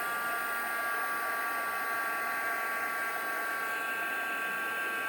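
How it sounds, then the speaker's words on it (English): A handheld heat tool blowing hot air to melt embossing powder on a stamped card, a steady whooshing fan hiss with a high motor whine, constant and close throughout with no speech. "I'm going to bring in a heat tool and heat that up real quick"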